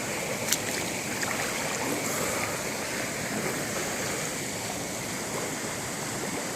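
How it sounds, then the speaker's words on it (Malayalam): A forest waterfall with strong flowing water, a continuous broadband roar and rush that stays even and loud from start to finish, with no voices. "കണ്ടോ വെള്ളച്ചാട്ടം?"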